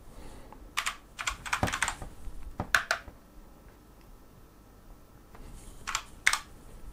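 Typing on an AULA F2088 budget mechanical RGB keyboard, with bursts of sharp key clicks in quick irregular clusters, near and fairly loud, separated by short pauses, with no voices.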